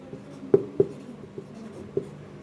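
Chalk or marker writing an algebra answer on a board, a few sharp taps and scratchy strokes spaced irregularly over a quiet room.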